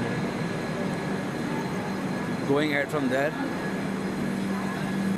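Low rumbling of the Dadar Kevadia Express passenger train at a station in India, with steady background noise; a voice speaks briefly in the middle.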